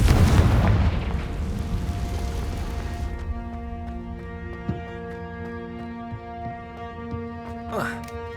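Fiery spell explosion in the Hogwarts Legacy video game: a loud, close burst of crackling noise that decays over about three seconds into a sustained, ringing tonal drone with faint scattered clicks.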